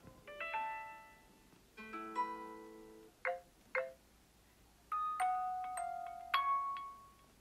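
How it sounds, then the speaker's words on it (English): Samsung Galaxy A13 5G notification tones previewed one after another: several short melodic chimes and dings with pauses between them, clean and fairly quiet, no talking. "And you can sample all these other notification sounds."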